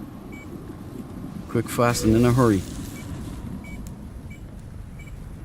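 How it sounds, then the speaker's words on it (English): In the No Man's Sky video game, a faint, high electronic beep repeats at regular intervals of a few seconds. It sits quietly beneath a short burst of someone talking. "I'm getting that beeping sound again."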